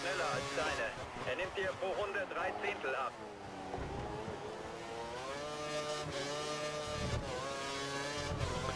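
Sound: F1 car accelerating in F1 2013 video game

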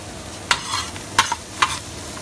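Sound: mirepoix vegetables sizzling and sweating on a grill

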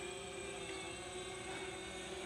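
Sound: DJI Phantom drone flying

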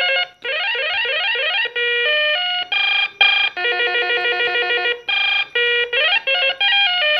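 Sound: landline phone ringtones

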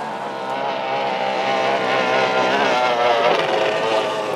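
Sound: unlimited outboard racing boats engines

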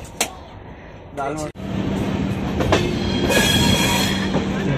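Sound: Rajdhani Express train arriving at station

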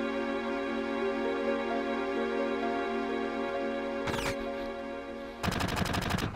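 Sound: gunfire in Final Fantasy VII video game

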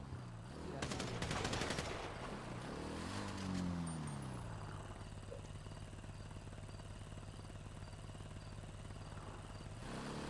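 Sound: warning gunfire in a video game

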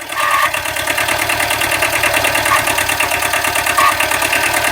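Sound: Kubota B7000 tractor engine running

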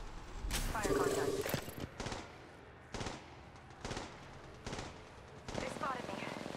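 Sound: gunfire in video game Apex Legends Mobile

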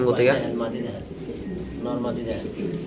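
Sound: black Lahori pigeons cooing

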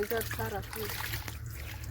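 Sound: water running while washing clothes

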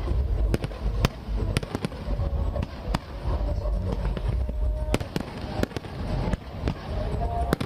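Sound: Diwali fireworks and firecrackers over Ayodhya

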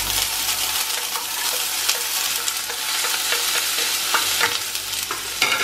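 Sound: stirring ginger, garlic and onion frying in a pan

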